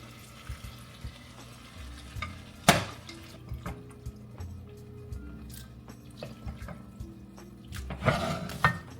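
A spoon stirs pasta in a cooking pot with soft scraping and sloshing, punctuated by a couple of louder clanks against the pot, at close range in a home kitchen.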